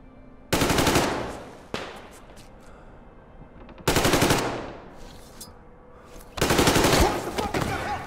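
Three loud bursts of automatic gunfire erupt in a Metro Exodus shootout, each volley a dense rattle of rapid shots lasting about a second and a half, separated by quieter gaps with scattered single shots and echoing tails.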